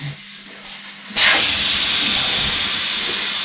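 After a short low hum, a tubeless bicycle tire valve has its core removed and air suddenly rushes out in a loud, steady hiss that holds strong for a couple of seconds, close up.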